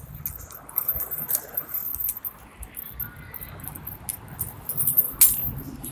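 Keys clatter and jangle in a few brief metallic bursts against low rustling handling noise, with one sharper jingle near the end.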